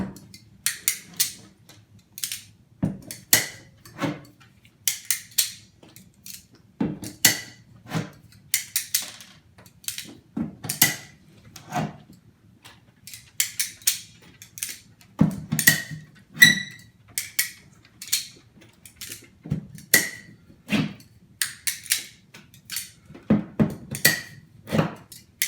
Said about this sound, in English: all the time-consuming parts of this is just in pulling all of these staples